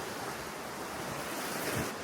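Waves washing onto a sandy beach on Tioman Island, a continuous loud wash of surf with a slight swell near the end, mixed with wind buffeting the microphone and no voices.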